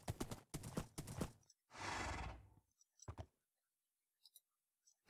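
A horse in the blocky survival video game TerraFirmaCraft: close, crisp clip-clop hoof steps in quick clusters, then a loud drawn-out whinny and a few more scattered clops, with no voices.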